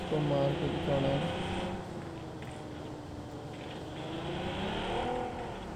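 A vehicle in the PUBG Mobile video game hums along steadily and then eases off as it slows to a stop, with someone talking over the engine noise.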